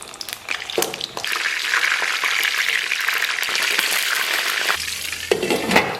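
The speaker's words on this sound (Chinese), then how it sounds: "咱们简单煎一个烤肠。" Frozen grilled sausages sizzle and spit in hot oil in a frying pan, a steady close crackle lasting several seconds with sharper pops and a brief clatter of cookware.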